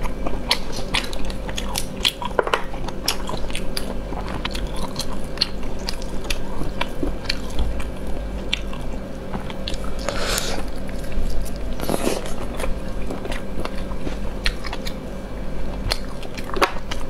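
Someone bites and chews spicy seafood with noodles and fried fish, producing close, steady, crunchy mouth sounds with repeated sharp bites over a low background hum.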